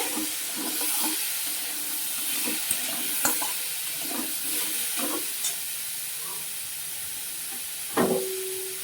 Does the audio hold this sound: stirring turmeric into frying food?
yes